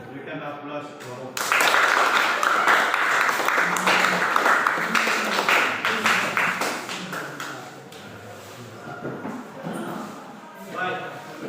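An audience in a classroom presentation session applauds a group with a burst of dense clapping that swells, holds for several seconds and then thins out, with a voice speaking over the fading end.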